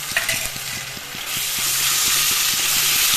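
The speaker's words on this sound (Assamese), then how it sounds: "তাৰপিছত দিম আদা নহৰু আৰু জলকীয়া পেষ্ট" Ginger, garlic and chili paste frying in hot oil in a pan for a fish curry, a steady close sizzle that swells louder midway, with repeated scraping clicks of a spatula stirring throughout.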